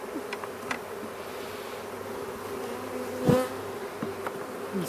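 Honey bees buzz steadily as they are loaded into a hive, with a few louder individual bees passing close by against the continuous hum.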